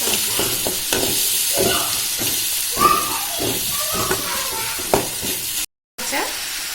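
Green chilies go into a hot pan of frying chicken and sizzle loudly and steadily, with repeated spoon scrapes and stirring taps across the pan under the constant hiss.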